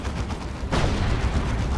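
A tank cannon fires in a Dawn of War 2: Retribution battle, a heavy boom landing partway through amid ongoing rumbling combat noise.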